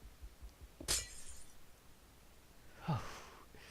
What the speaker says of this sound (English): It sounds like breaking glass.